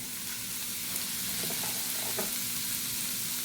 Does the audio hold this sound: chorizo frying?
yes